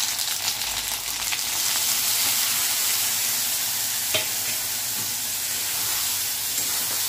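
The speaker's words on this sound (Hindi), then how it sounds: "मसाला अच्छी तरह से एकदम तेल में फ्राई हो जाए" Spice masala frying in oil in a pan on low flame with pointed gourd, a steady loud close sizzle with faint stirring throughout.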